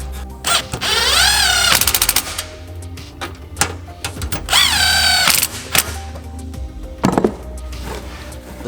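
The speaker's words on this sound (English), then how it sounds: "Installing the 5 bolts and nuts." Bolts and nuts go into a Jeep Wrangler JL fender liner with a power tool, its motor whining up in two short bursts, mixed with clicks, ratcheting and metallic clatter close by.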